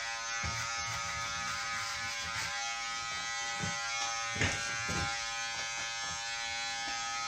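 Electric hair clippers buzz steadily through a men's haircut while cutting a baseline, a continuous close hum with a few brief louder pulses as the blade meets hair.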